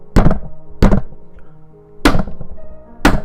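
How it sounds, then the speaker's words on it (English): A nightstick bangs on a car roof and window in four loud, hard thunks spaced unevenly apart, each a sharp heavy knock with a brief ringing tail, heard alone and close. "He pulled out something that looked like a nightstick and started banging it on the roof of the car and the window."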